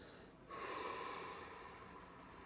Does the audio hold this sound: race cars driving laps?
no